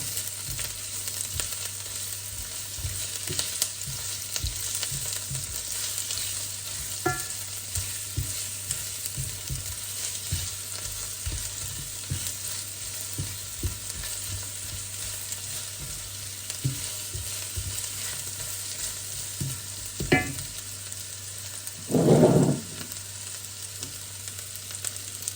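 Onion, black pepper and bay leaves frying in a pan for Filipino-style chicken curry, with a continuous sizzle and intermittent scraping and stirring clatter, and a brief louder burst near the end.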